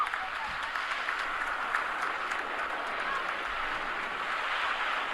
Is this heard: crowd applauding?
yes